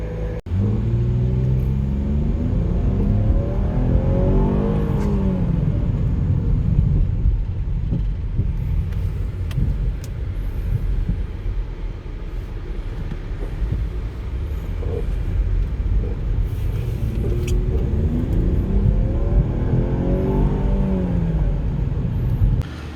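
A 2011 GM truck engine, fitted with a new ECM, revs at wide open throttle twice, each time climbing and falling in pitch over a steady, close, loud rumble with no talk.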